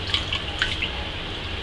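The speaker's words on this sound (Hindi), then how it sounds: "ब्रेड को ये पानी में ऐसे डाल के इसे मैं हथेली पे रख के इसकी सारी पानी को ऐसे हम निकाल" Water is squeezed by hand out of a slice of bread soaked in water, giving a few soft, close dribbles and drips falling into a bowl or sink.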